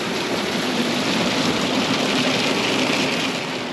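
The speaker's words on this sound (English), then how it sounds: "it's raining here in Cardigan" Heavy rain pours steadily onto a camper van in Cardigan, Wales, making a loud, dense, continuous hiss and drumming from up close.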